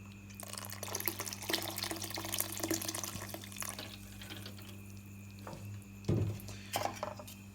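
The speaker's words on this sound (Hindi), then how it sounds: "और डालते हैं शीरा।" Molasses syrup is poured into water while preparing a mahua liquor mash, giving a soft, continuous liquid trickle and splash close by, with occasional light knocks of a container and a steady low hum underneath.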